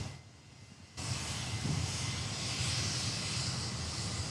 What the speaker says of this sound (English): there's our Alliance service just taxiing into the bay via Sierra Tango and then Charlie